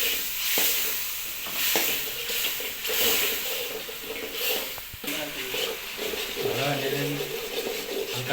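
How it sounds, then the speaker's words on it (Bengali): Ground turmeric, coriander and cumin powders stirred with a splash of water in a pan, giving a steady sizzle with repeated scraping strokes throughout. "হালকা জল দিয়ে নেড়ে নিতে হবে মশলাগুলোকে।"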